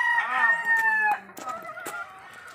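A hen in a breeding yard of gamefowl gives a long, tonal cackling call, fairly close and clear, followed by softer clucks and scattered clicks, with no talk.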